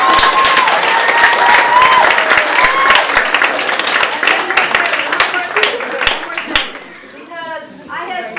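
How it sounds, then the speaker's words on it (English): An award ceremony audience breaks into clapping and some cheering, with a voice talking over it; the claps thin out and fade near the end as speech carries on alone. "Can we clap for Blair?"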